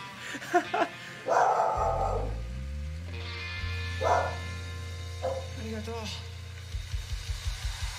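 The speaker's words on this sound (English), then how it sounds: "You guys can still hear my dog barking upstairs." A dog barks and yips upstairs in short bursts, muffled by distance, alongside a voice and a hum of background concert music; faint barks recur near the end.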